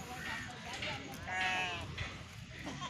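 Sheep bleat at a crowded goat market in Deonar, one wavering bleat standing out over constant crowd noise and people talking nearby.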